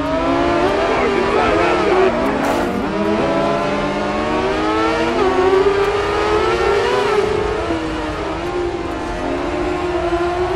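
A kartcross kart engine in the racing video game DIRT 4 drones steadily and loudly, its pitch rising and falling as it revs through the whole stretch.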